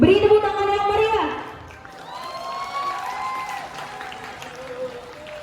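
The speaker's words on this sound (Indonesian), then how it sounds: "Beri tepuk tangan yang meriah." Audience at a school student council election in Jakarta breaks into applause with some whistles after a voice speaks over a sound system; the clapping stays moderate and diffuse beneath the tonal whistling.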